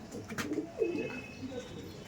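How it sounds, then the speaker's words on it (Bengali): Andhra Madrasi pigeons at a sale, a close soft cooing call rising and falling once amid faint background noise and a brief higher chirp, with no talk over it. "এই হচ্ছে পায়রা"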